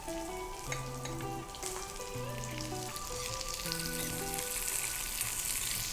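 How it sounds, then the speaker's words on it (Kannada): Onions frying in a pan, a soft continuous sizzle beneath steady tonal music, fairly quiet throughout with no talk. "ಇದಕ್ಕೆ ಈರುಳ್ಳಿನೂ ಹಾಕೊಂಡು ಬಿಡೋಣ ಸರಿ ಅದರೊಂದಿಗೆ ಇದನ್ನು ಸಹ ಹುರಿದ್ಬಿಡುತ್ತೆ"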